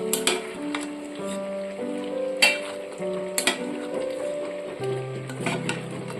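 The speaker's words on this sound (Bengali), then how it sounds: "এখানে আমি এবার দিয়ে দিচ্ছি ভেজে রাখা আলু পটল আর চিংড়ি মাছ একসাথে দিয়ে দিচ্ছি দিয়ে মশলার সাথে খুব ভালো করে কষিয়ে নিতে হবে" Fried potatoes, pointed gourd and prawns being stir-fried with spices in a pan, giving a steady sizzle broken by several sharp spoon scrapes and clinks against the pan, close and clear.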